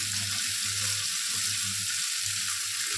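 Carrots and long beans frying in a pan, a steady close sizzle with low stirring scrapes and no voices.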